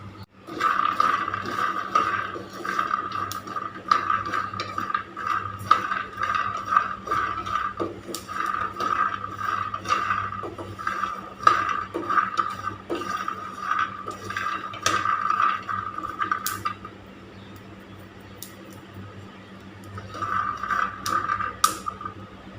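Peanuts dry-roast in a pan over a medium gas flame, giving a continuous dense rattle and scrape as they are stirred, steady for long stretches with a brief quieter pause near the end.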